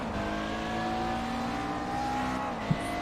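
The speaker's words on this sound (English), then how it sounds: "enjoy a lap on board with Matty Keane in the McLaren GT3" A McLaren GT3 race car heard onboard in a sim racing game at Silverstone, a loud, steady engine drone holding high revs with a brief sharp blip near the end.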